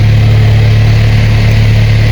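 A Mercedes GT43 AMG engine idles steadily with a deep, constant low rumble that holds even and loud throughout, with no talking.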